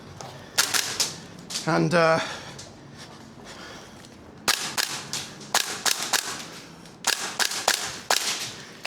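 A Gunsmodify 416A5 MWS gas blowback airsoft rifle fires in sharp, close cracking shots, single reports and quick strings of several, with a brief metallic rattle between bursts and a short spoken word.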